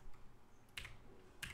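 Faint computer keyboard typing, with two crisp keystroke clicks spaced apart against quiet room hiss.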